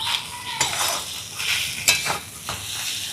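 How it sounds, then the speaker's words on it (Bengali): A spoon scrapes and stirs potato filling with spices in a kadai, with repeated close scraping strokes over a soft sizzle. "নাড়ার ফলে দেখুন কড়াই ছেড়ে উঠে আসছে।"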